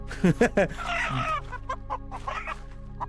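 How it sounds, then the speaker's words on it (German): Chickens cluck in a video game, several short sharp clucks followed by a longer busy stretch of clucking and squawks, fairly close, with no talk over them. "So, Hühner."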